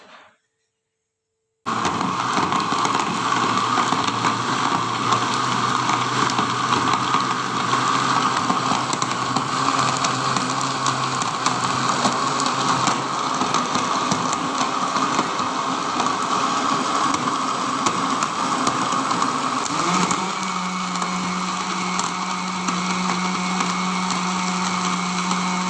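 An electric blender grinds a protein milkshake made with milk, starting abruptly after a brief silence and then roaring loud and steady; about two-thirds of the way through, its pitch drops into a lower whine.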